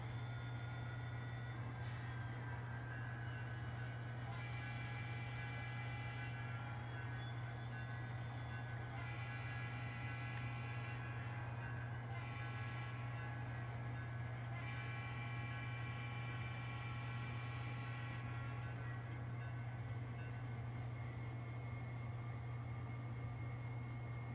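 An N scale model train locomotive ramps up speed on its own under load on a layout, making a steady electric motor hum with a faint whine that rises in stages, quiet and close with no voices.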